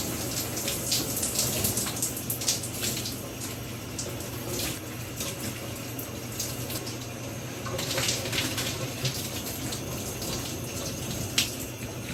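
Water runs steadily from a tap during face washing with soap, a continuous broadband rush with small splashing variations, close and alone without talk.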